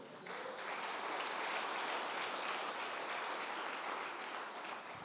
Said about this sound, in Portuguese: As palmas para o Senhor.